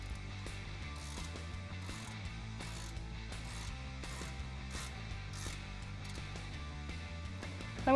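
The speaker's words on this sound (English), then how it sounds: "start using a 15mm ratcheting wrench just to take that bolt out" A 15mm ratcheting wrench backs out a track bar bolt on a Jeep Wrangler TJ during a suspension lift install, its pawl clicking in a steady, fast ratchet rhythm, close up and alone.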